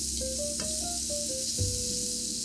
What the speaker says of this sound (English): I grab 2 or 3 garlic cloves that I press into the pot, and I saute that for another minute or so